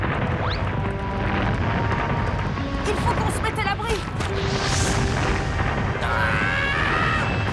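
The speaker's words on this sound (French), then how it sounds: "Oh non, une avalanche!" A cartoon avalanche rumbles as a loud, continuous low roar with booming texture, running under excited French character voices and shouting throughout.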